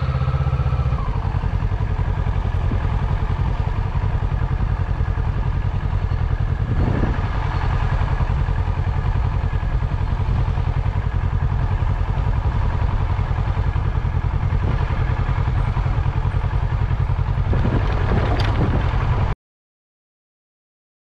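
Motorcycle engine droning steadily at close range for around nineteen seconds, a constant low hum with faint clatter, which then cuts off into silence.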